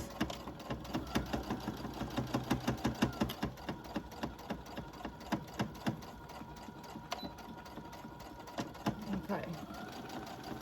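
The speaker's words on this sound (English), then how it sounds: "I'm just going to back stitch a little bit as well, just to give it a bit more" A sewing machine back stitches fabric for a beginner's dachshund sausage dog toy, running in a close, steady burst of rapid rhythmic stitching that then slows and stops, while a person speaks briefly.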